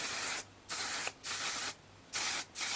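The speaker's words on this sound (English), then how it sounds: "I'll definitely end up using either the One Size Setting Spray for my finishing touch" Makeup setting spray misted in five quick pumps, each a close, bright hiss lasting under half a second, separated by short silent gaps, with no talking.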